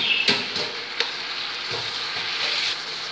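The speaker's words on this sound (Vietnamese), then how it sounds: "Bây giờ gà mình xào săn rồi" Chicken pieces are stir-fried in a hot pan, giving a loud, continuous sizzle broken by a few sharp scraping stirs of the utensil and no talking.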